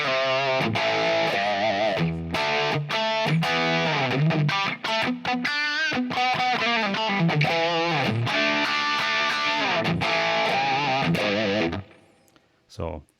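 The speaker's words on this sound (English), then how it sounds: "a plain rock tone without the delay or without any effects, just a little reverb" An electric guitar plays a clean, straightforward rock riff with a touch of reverb, strummed chords and picked notes ringing out loudly before fading at the end.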